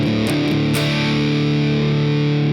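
Heavily distorted electric guitar strums chords from a song's chorus, a few sharp muted hits at the start and then a loud sustained ringing chord.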